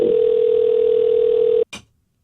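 A telephone call goes unanswered: a single steady electronic tone sounds for about a second and a half, then cuts off, followed by a brief click.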